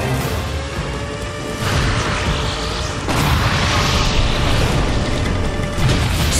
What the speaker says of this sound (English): Self-destruct detonates!